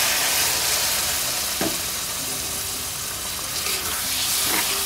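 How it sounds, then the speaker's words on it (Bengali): Spice paste with chilli, cooked down in a pan with a splash of water as the base for a country duck curry, a loud, continuous hiss and bubble with occasional stirring knocks. "আমি এখন একটু পানি দিয়ে কষিয়ে নিচ্ছি।"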